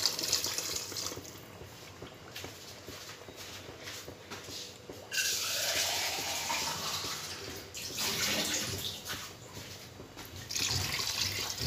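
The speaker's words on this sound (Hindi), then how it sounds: "ये 1 लीटर पानी डाल दिया है।" About one litre of water is poured into a cooking pot of meat for haleem (khichda), a continuous splashing pour that swells and eases in waves over several seconds, close and fairly quiet.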